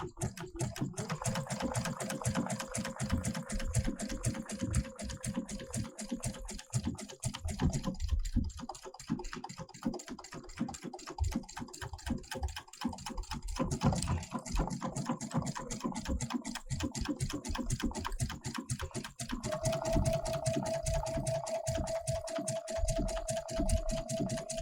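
Domestic sewing machine stitching a buttonhole on fabric: a continuous rapid mechanical whir of needle strokes, shifting in pitch and rhythm as it moves from underlay stitching into zigzag, steady and close throughout.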